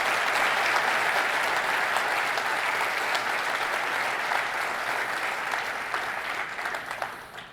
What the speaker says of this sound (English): Can we get a huge round of applause for all these helpers make this happen